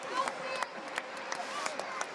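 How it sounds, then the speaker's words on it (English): A stadium crowd at a Tottenham Hotspur training session claps a round of applause, distant and diffuse, a soft continuous patter with occasional sharper claps, voices mixed in. "Big round of applause."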